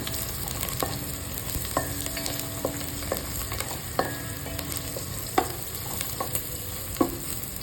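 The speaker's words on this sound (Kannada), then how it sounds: "ನಿಧಾನಕ್ಕೆ ಅದು ಹಾಗೆ ಫ್ರೈ ಆಗಲಿ" Spiced poha upma fries in a pan while a spoon stirs and scrapes it, a continuous low sizzle broken by repeated clinks and scrapes of metal on the pan, with no talk.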